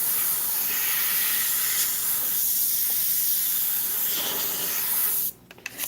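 An airbrush blows a strong, continuous hiss of air to dry acrylic paint on canvas, then cuts off abruptly near the end, leaving a few faint clicks.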